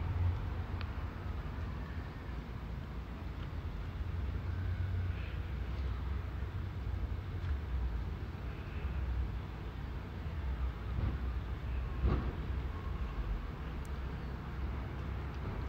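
A Greater Anglia class 720 electric train pulls into Cheshunt station, a steady low rumble and broadband rush holding level throughout, with faint higher squeals and a brief sharper clank near the end.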